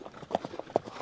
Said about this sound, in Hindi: देख रहे घोड़ी सवारी करके जा रहे हैं